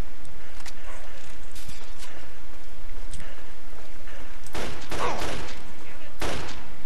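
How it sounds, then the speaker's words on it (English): Combat shotgun blasts in Fallout 3, several loud close bursts near the end over constant game background noise, following quieter distant shots and someone speaking. "I'm gonna switch to my combat shotgun just to show how amazing this weapon is."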